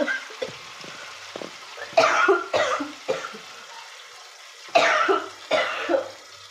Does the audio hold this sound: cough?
yes